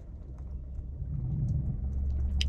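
Manual car pulling off in first gear as the clutch is released, a low engine rumble that rises slightly and holds steady, heard from inside the cabin with no talking.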